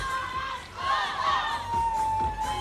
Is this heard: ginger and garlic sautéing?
no